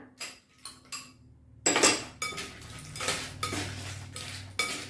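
A cockle, sausage and fermented fish salad is served onto a plate with a series of distinct clinks and scrapes of a utensil against the dish, several sharp hits spaced unevenly, close and fairly quiet.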